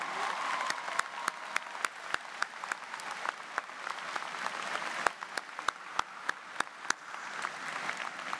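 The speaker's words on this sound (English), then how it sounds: "How about a round of applause for her as well?" Scattered audience applause at a University of Cincinnati convocation, with sharp individual claps standing out over a softer background of clapping that continues throughout.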